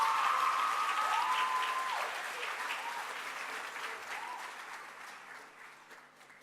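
Applause rolls through a high school prizegiving hall for an award recipient, sustained clapping from a large audience that slowly tapers off over several seconds.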